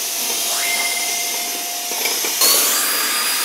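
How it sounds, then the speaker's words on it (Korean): A household vacuum cleaner runs steadily at close range, a broad whooshing drone with a thin whine, swelling louder and brighter near the end as the nozzle shifts. "어이야 청소기 돌리네."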